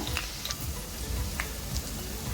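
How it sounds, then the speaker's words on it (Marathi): Crushed garlic cloves and finely chopped green chillies fry in hot oil in a home kitchen, giving a low, steady sizzle with a few faint ticks and clinks and no talk. "इथे तेल गरम झाले सात ते आठ लसणाच्या पाकळ्या ठेसून घेतल्या त्या टाकूया"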